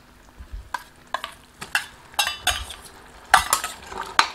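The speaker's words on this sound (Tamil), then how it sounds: "இப்ப இஞ்சி அரைச்ச விழுத சேர்த்திக்கலாம்." A spoon stirs ground ginger paste into thick sugar syrup in a pan, giving a series of distinct scraping, clinking strokes at an irregular rhythm, close and fairly clear with no talking.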